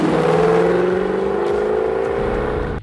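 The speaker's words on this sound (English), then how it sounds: "The CLK 63 Black Series has one of the most distinctive exhaust notes of any AMG" A Mercedes-AMG CLK 63 Black Series engine and exhaust growl loudly and steadily up close, the deep droning note holding for a few seconds before cutting off.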